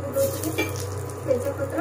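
Oil sizzles briefly in a hot pan, a soft, steady crackle at low volume with a faint stirring texture.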